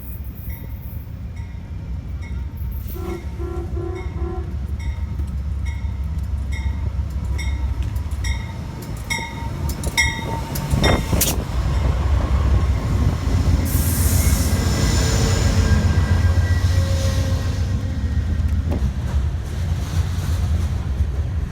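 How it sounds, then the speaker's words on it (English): An Amtrak passenger train rolls past outdoors in snowy country, its horn sounding in long tones before the loud wheel rumble and squealing rail noise build and sustain close by. "Waiting for the Amtrak."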